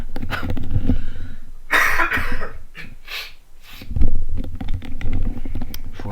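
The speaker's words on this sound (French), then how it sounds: "je vais commencer tout de suite à tousser" Several harsh coughing bursts, close and loud, with a throat-clearing sound and some rustling between them; no talking.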